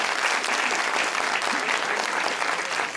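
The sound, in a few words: audience applause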